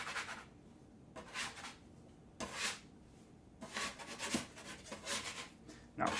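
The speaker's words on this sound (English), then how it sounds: "I'm scraping it out." Gluten-free coconut cream pie filling is scraped out of a pan with a utensil in soft, intermittent strokes, about five close, faint rasping passes separated by quiet gaps.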